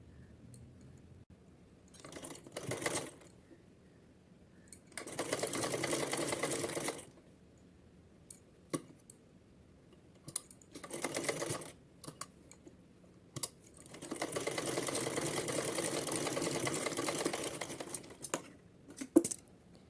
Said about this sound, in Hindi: तो चलिए यहाँ तक इसको सिल लेते हैं।